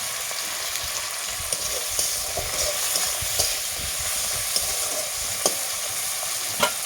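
Tomatoes sizzle and fry in a pan for a potato and meat curry while being stirred, with a steady crackling hiss and scattered scraping clicks throughout.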